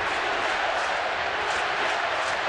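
A large baseball stadium crowd roars steadily at night, a dense and continuous wash of cheering and murmur that holds at an even level throughout, with no clear voice standing out.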